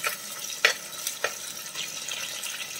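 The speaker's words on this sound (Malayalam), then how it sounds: "നമുക്ക് കൂടെ തന്നെ ഒരു മൂന്ന് പച്ചമുളക് നെടുകയും ചെറിയതും കൂടി ചേർത്ത് കൊടുക്കാം" Three green chillies, slit and chopped, sautéing in oil in a pan for a coconut-gravy prawn curry, giving a steady hiss with two sharp clatters of stirring.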